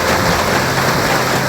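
Heavy rain pours down during flooding in Limboto Barat, a loud, dense and unbroken wash of falling water with no pauses.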